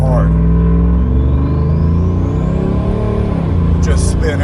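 A lifted Ram 1500 Hemi pickup with a turbo and six-speed gearbox pulls away hard, its loud, close engine note rising in pitch through a gear before easing off near the end.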